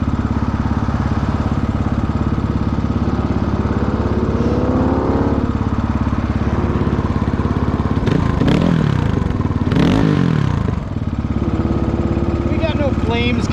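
A 2022 GPX FSE300R motorcycle engine fitted with an ARacer ECU, running rich on deceleration, revs loudly and steadily, rising in pitch with sharp blips near the end, with a voice briefly heard over it.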